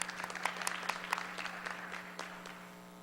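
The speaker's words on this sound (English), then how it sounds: "Round of applause." Steady applause from a seated audience at a cyber security conference, a moderate crowd clapping at a distance over a low hum, gradually thinning toward the end.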